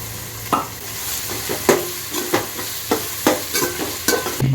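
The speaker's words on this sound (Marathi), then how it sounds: "हे वालाचे गोळे पाच मिनिटांसाठी कांद्यावर परतून झाल्यानंतर ह्यामध्ये किचलेला नारळ घालायचा आहे" Vaal bean balls are sautéed over onions in a pan with grated fresh coconut, with a soft sizzle under repeated scraping strokes of a spoon about twice a second, close and moderately loud.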